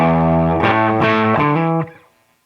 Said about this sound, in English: Turn the distortion up